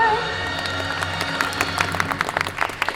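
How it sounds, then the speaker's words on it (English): Audience at a Disney's Hollywood Studios stunt show breaking into applause and cheers, a dense crowd of claps building in bursts over the theme park's background music. "don't forget the thunderous applause for yours truly"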